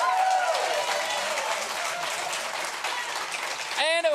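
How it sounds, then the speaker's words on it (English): Live audience at a Farm and Fun Time radio show applauding loudly and steadily, a dense wash of clapping and crowd noise throughout, with a brief whistle near the start and a voice cutting in at the end. "Give a big round of applause for them."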